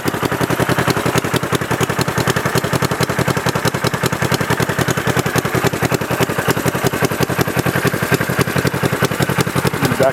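A cold Honda CB450 brat tracker motorcycle engine idles with a steady, rapid, slightly uneven chug of pulses throughout, loud and close with no talk.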